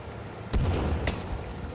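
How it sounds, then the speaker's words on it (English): A bomb blast in the survival video game The Forest: a sudden deep boom at about half a second with a rumbling tail, then a second sharper burst a moment later over steady background noise. "Throwing another bomb down there."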